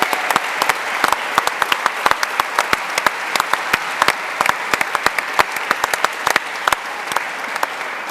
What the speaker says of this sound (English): slow walk to milk the applause up on stage?